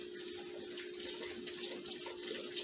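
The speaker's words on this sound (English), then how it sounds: "So I'm washing the spoon in my soapy water right here," A spoon is washed under running water into soapy water in a kitchen sink, a steady, soft tap stream flowing continuously without speech.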